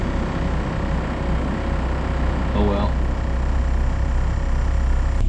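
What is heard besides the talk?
boat engine running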